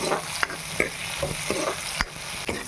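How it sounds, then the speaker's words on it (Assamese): Eggs frying in a home kitchen pan, a continuous close sizzle broken by several sharp scraping taps of a spatula, with no voices. "সেই কণীখিনি ভাজি আছোঁ"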